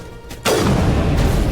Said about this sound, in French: Mais arrêtez de tirer.